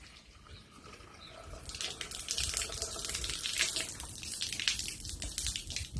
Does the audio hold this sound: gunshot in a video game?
no